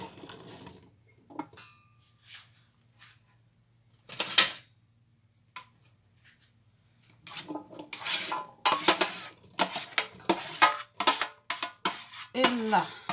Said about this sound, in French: on met les pommes dans la casserole.